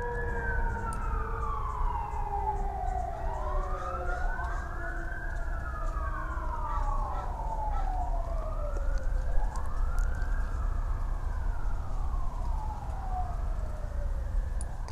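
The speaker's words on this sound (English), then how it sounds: "So the sirens, there's a racing to another trauma" Emergency vehicle sirens wail in repeated rising and falling sweeps, several overlapping tones cycling over a low traffic rumble, fairly close and loud for the whole stretch.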